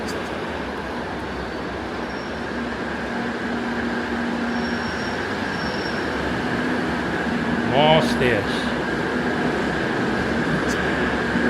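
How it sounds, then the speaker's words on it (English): A metro train in Spain rumbles into a station with a steady roar and a brief wheel squeal midway, loud and enveloping, while a person speaks briefly over it. "Look, train is here."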